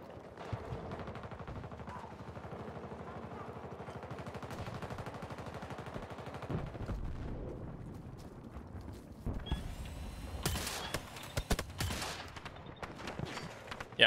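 Gunfire in Battlefield 2042 crackles through a dense firefight, with steady distant bursts early, then sharper, louder shots and impacts close by toward the end.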